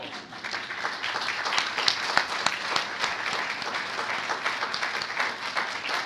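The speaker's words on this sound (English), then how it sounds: "Let's give her a round of applause." An audience at a 2013 business challenge event claps steadily, a dense, sustained round of applause from a crowd filling the room, moderately loud and without talk over it.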